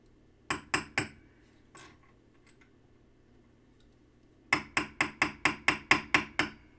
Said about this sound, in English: reaching for the hammer here